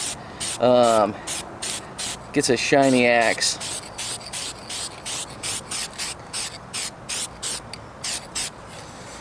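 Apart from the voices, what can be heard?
spraying protective coating on axe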